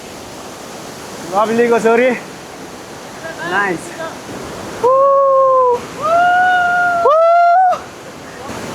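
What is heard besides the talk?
waterfall in Bandipur, Nepal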